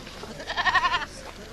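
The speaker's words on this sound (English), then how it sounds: "that's a nice mama goat" A mama goat bleats once, a loud, wavering, pulsing call lasting about half a second, close by against quiet surroundings.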